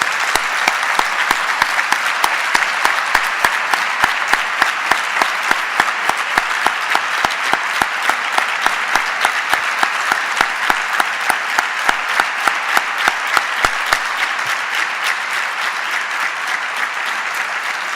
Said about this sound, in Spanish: es el momento de darle un magnífico aplauso y las gracias.